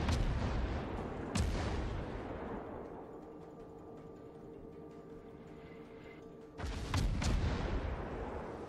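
Naval gunfire in World of Warships, heavy booming salvos, one sharp blast early, then a long rumbling decay before a second pair of loud cannon shots, with no talk.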